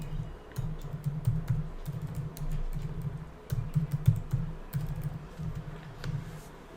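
A password being typed on a computer keyboard: a quick, uneven run of soft key clicks and taps, close and fairly quiet, with brief pauses between bursts.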